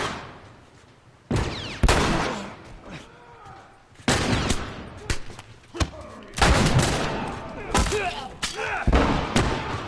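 Gunfire in The Last of Us Remastered comes in loud, abrupt bursts of shots and thuds separated by short pauses, with a voice talking between and over them.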